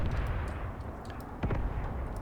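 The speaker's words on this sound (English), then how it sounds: "2 howitzers blasting away at the enemy forces that are trying to retreat" Two howitzers blasting away at retreating enemy forces in the war game Graviteam Tactics, heard as a continuous low rumbling roar of distant artillery with a sharper report near the middle.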